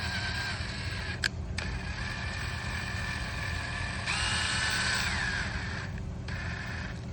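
A drill bit spins inside a threaded hole in an assembled engine during a thread repair, giving a steady, close whirring whine that briefly cuts out and then returns with a rising, brighter pitch.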